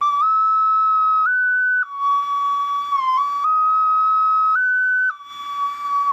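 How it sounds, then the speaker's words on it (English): A clear, pure flute-like ocarina tone plays a short, simple melody of sustained notes stepping up and down, close and fairly loud. "Oh, little ocarina, look at it. Pretty cool. And it sounds like this."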